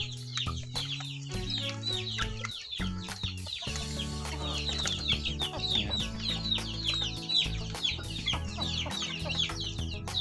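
Chickens cluck steadily and overlap one another at close range, with busy chirping from chicks being fed on a farm, over a low background hum.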